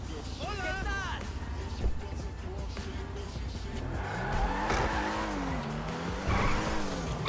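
Car in GTA 5 driven hard around a city block, tires squealing and skidding over a revving engine, with people talking over the driving sounds.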